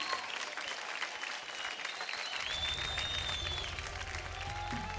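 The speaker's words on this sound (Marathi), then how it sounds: "जोरदार टाळ्या होऊन जाऊ द्यात ग्रँड मास्टर उर्मिला मातोंडकर आणि रेमो सरांसाठी" A studio audience at a TV dance show claps in a sustained burst of applause, loud and steady, with some crowd noise and faint background music entering partway through.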